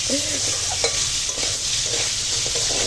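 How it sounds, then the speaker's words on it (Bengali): Pumpkin cooks in a pan with a dried red chilli tempering, a loud steady sizzle running throughout with a few scraping stirs near the start, no voices. "তো এখন এই শুকনো লঙ্কার ফোড়নে মিষ্টি কুমড়োটা রান্না করবো"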